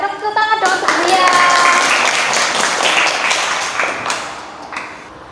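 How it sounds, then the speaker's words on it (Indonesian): A group claps for a child named Zia during a classroom drawing and illustration lesson: a short burst of hand clapping that rises quickly and fades over a few seconds, with a voice speaking alongside. "Tepuk tangan dong untuk Zia."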